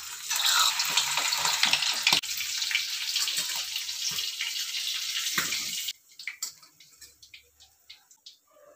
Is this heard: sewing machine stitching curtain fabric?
no